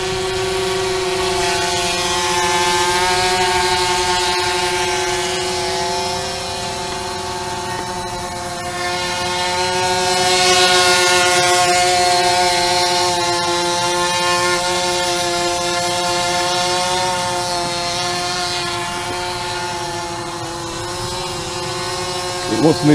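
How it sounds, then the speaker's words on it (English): A homemade bicopter drone with a noisy motor drones on steadily with a strong tonal whine and stacked harmonics, swelling slightly midway, with people talking faintly underneath. "It's got a noisy motor on there though."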